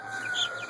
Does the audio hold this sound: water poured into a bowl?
no